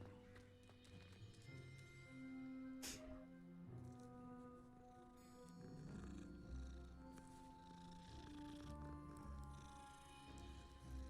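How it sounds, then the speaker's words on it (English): A cat purrs in Hogwarts Legacy while being petted, a soft rumbling purr layered under game music and ambient effects, steady and close throughout. "And I pet the cat."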